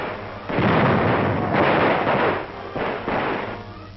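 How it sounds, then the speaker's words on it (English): Grenade explosions clear pillboxes on Okinawa in a WWII newsreel, heard as several heavy, booming bursts that roll into one another in a dense, loud sequence on an old, muffled soundtrack. "Pillboxes cleaned out with grenades."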